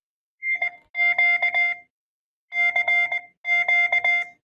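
A phone ringtone beeps CQ in Morse code as a series of clean electronic tones, dashes and dots grouped into two pairs of bursts with short pauses. The beeps are loud and alone, with no voices.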